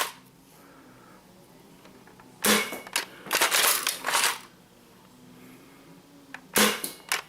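An Adventure Force Nexus Pro toy dart blaster fires in two bursts, loud whirring and clattering mechanical volleys lasting about two seconds, with a single shorter burst following after a pause.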